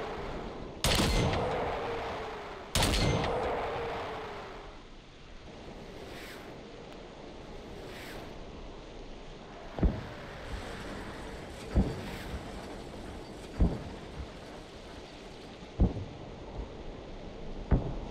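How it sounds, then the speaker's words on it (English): Mortar firing high-explosive rounds in the Arma 3 ACE military game: two loud booming launches close together, then a run of sharper, more distant impact cracks every couple of seconds over a windy background. "We're going to put 5 HE rounds on target."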